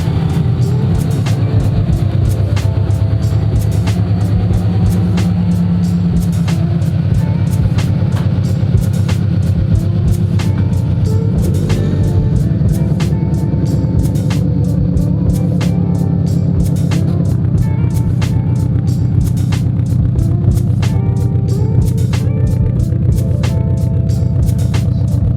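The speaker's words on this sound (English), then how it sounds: "I'm gonna have to pull the car out." A heavily modified, boosted Subaru BRZ with an aftermarket exhaust runs steadily nearby as it is pulled out, a loud continuous low rumble with faint clicks and rattles over it.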